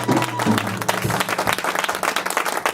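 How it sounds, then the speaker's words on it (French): Church congregation at a French-language service applauds and cheers loudly for the Lord, dense clapping filling the room with a low hum underneath. "Et on va acclamer très fort le Seigneur"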